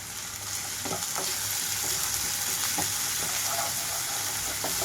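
Turmeric and ginger paste fries in a pan for a tindora masala curry, giving a loud, continuous, even sizzle with occasional soft stirring scrapes throughout.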